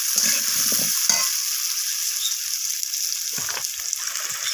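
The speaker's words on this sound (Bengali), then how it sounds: "তো আলুগুলোকে আমি একটু লালচে করে পেঁয়াজের সাথে ভেজে নেব।" Potato pieces frying with onions in a pan, a steady loud sizzle with brief stirring scrapes, no talk.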